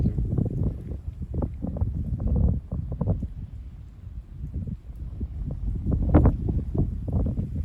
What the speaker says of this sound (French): Ah, le vent. Elle est bien costaud celle-ci.